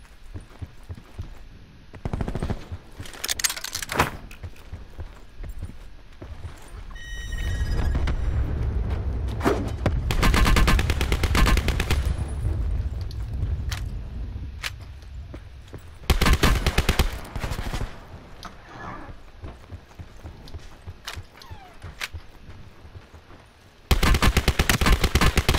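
Gunfire in Call of Duty Blackout, with loud shotgun blasts and bursts of rapid shots scattered across the clip, plus stretches of rumbling explosions and quieter gaps between shots.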